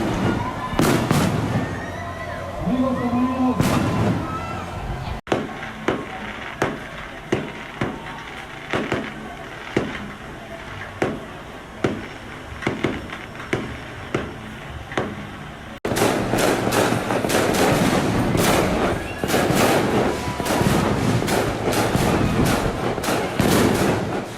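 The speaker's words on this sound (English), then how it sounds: "watched fireworks with the beach view" New Year's Eve fireworks over the beach in Cancun boom and pop repeatedly from a balcony, with spaced single bursts giving way to a dense, continuous crackling barrage, loud and reverberant.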